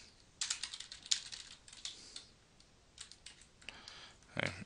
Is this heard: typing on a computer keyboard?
yes